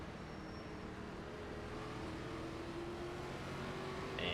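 An ARCA race car in iRacing pulling away with a second gear start: a steady, low engine drone that holds at a constant level and climbs slightly in pitch toward the end, with no talk.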